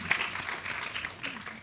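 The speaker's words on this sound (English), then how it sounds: "I think that's the clap." Steady applause from a crowd, a continuous wash of clapping at moderate loudness lasting throughout, with no one speaking over it.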